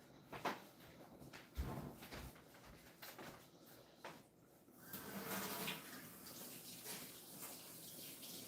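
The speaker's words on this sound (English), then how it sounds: "I'm going to go wash my hands." Hands being washed under running water, a faint, distant flow from a tap with scattered knocks and clatters before the water settles into a steady rush, no talking.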